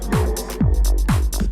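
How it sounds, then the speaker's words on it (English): A house vocal sample repeats in short chopped phrases, drenched in a long three-second reverb tail that washes each hit into the next, loud and close with a deep low-end hum underneath. "So I'll parallel process my reverb, turn the decay up, let's say to, I'll do 3 seconds in terms of decay."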